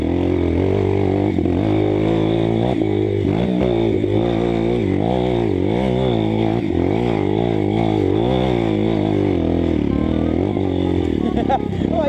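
A motorcycle ridden hard on an off-road trail, its engine loud and close with repeated revving surges and throttle changes throughout, a little clatter mixed in.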